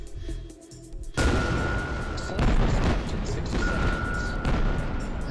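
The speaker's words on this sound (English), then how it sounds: "Those explosions on the walls don't harm the player at all, they're just there to cause panic." Deep booming explosions in the video game Clandestine Extirpation rumble continuously, with heavy blasts and crackling debris layered into a dense, loud barrage.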